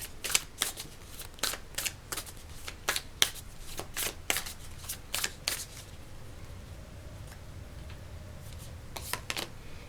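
Tarot cards shuffled by hand, a quick run of sharp riffling flicks for about six seconds, a brief pause, then a few more flicks, close and clear.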